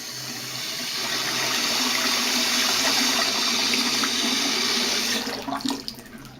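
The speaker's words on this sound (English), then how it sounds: "So once everything's hooked up, run the water." Water running through a newly installed Moen faucet, a steady loud rushing gush into the sink that holds for several seconds and then tapers off with some splashy sputters near the end.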